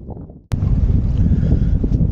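Strong, steady wind buffets an anchored sailboat off Île de Ré and Oléron, with a low rumble and roar that starts abruptly and fills the whole stretch, close and loud.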